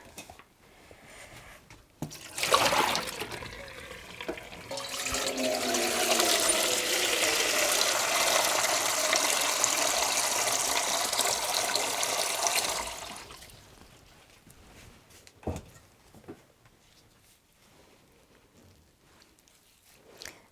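Naturally dyed fibre is rinsed in water: a loud, sustained rush of running water lasts about ten seconds, followed by quieter sporadic splashes and drips nearby.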